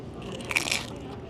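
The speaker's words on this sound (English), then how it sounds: "Let's take a bite of this." Crisp crunching bite into crispy Filipino pork skin, a short burst of crackling crunch close to the mic in a quiet setting.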